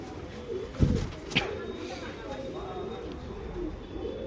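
Male pigeon, a chappar-type bird offered for sale, gives a few soft low coos close by, with someone talking over and around them against a steady background hum.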